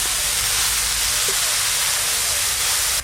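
Washed, chopped kalai greens dropped into hot oil with cumin give a steady, loud, broadband sizzle that holds for about three seconds before cutting off abruptly.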